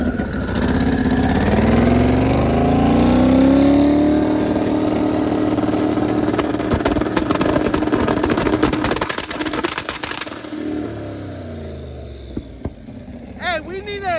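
A twin-turbo LS engine in a limousine revs loud and close at an event, holding a rising, sustained roar that drops away into rough idling and crackles near the end, with voices mixed in underneath.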